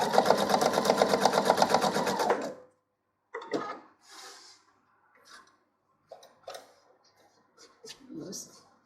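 A sewing machine runs in one fast, even burst lasting a couple of seconds while stitching a four-patch patchwork coaster, then stops. Scattered handling clicks and quiet talk follow.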